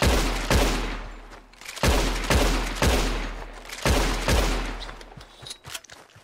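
A gun in the western video game RedM fires a rapid string of loud, punchy shots in quick pairs and bursts, each crack trailing a short echo, with no voices over it.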